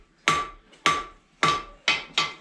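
Blacksmith's hammer striking hot iron in a forge shop: five sharp ringing metallic blows at a steady pace, close and clear, with no talking.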